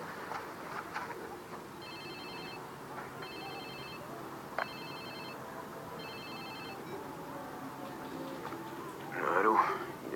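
A phone in Watch Dogs rings in four evenly spaced electronic bursts, moderately loud over a quiet background, with a brief louder noise near the end.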